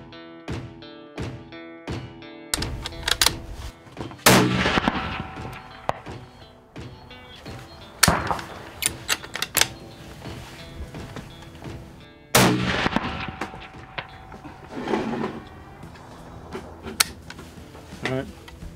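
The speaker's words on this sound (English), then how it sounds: "I'm gonna take two shots, barrel untaped, and then two shots with the barrel taped" Rifle fired in an open field at a 430-yard target with the barrel untaped: loud, sharp shots with rolling echoes, and voices between them.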